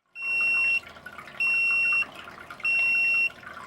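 Three loud electronic beeps from an Icecap aquarium auto top-off unit alarm, each lasting about half a second, spaced evenly apart over a low background hum.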